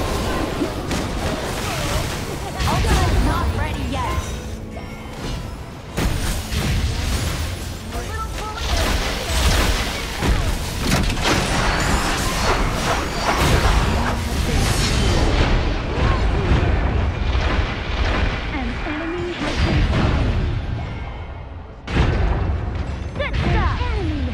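A turret crumbling in the mobile battle game Honor of Kings, a long dense stretch of booms, crashes and clashing effects over game music, with an announcer voice speaking through it.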